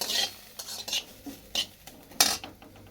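Onions dry-roasting in a pan without oil, stirred with a metal spoon: a series of close, quiet scraping and clinking strokes against the pan with faint sizzle between them.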